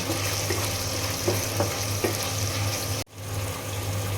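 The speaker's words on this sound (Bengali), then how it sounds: "দারুচিনি, এলাচ আর লং দিয়ে দিলাম।" Whole cinnamon, cardamom and cloves sizzle steadily in hot oil with a few soft stirring clicks, then the hiss briefly cuts out before resuming.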